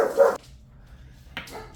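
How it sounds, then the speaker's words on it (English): A dog lets out two short, sharp barks close by, separated by about a second of quiet. "Sorry for the edits, but it's the dogs. You don't want to get them barking."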